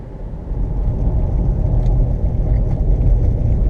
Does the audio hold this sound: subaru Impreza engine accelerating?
yes